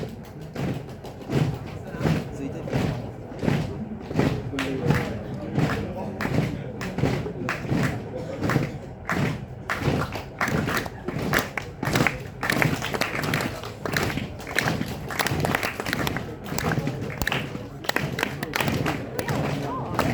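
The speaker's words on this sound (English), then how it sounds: "Now the rest of you have to clap your hands." Students in a music lecture clap their hands over and over in an uneven group rhythm, dull and thumping, for about twenty seconds, with talking mixed underneath.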